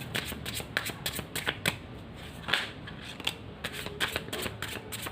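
Tarot cards being shuffled by hand, a run of crisp riffling bursts and soft card slaps in a quiet room, close and fairly faint, with no talking.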